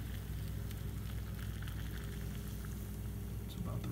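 Boiling water is poured into a Maruchan soy sauce udon instant noodle cup, producing a steady, soft, hissing splash that runs evenly throughout at low volume.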